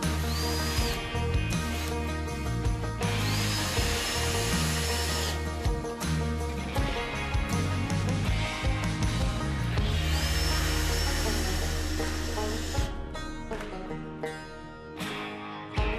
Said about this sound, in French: Ensuite, vissez cette planche à la longue planche.